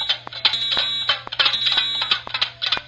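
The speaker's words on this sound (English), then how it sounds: "He's testing the fire alarms." A school fire alarm under test by the fire department sounds as a loud, rapid series of harsh electronic horn blasts that repeat without a break, with no voices.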